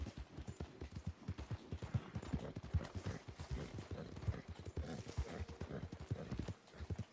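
Horse hooves clip-clop in a steady, even rhythm in the Red Dead Redemption 2 video game, each footfall close and distinct, with an occasional faint whinny and no talk over it.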